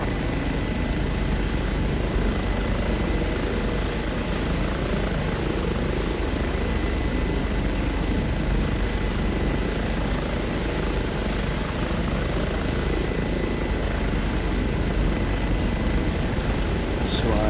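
An Airbus H145 helicopter flies in Microsoft Flight Simulator 2024, giving a steady, continuous drone of rotor and turbine that fills the whole stretch, with a voice talking faintly at times.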